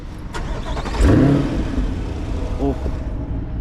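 A car engine cranks and catches in a quick hot start, a short rising whir settling into a low idle, heard from inside the vehicle with a voice speaking over it.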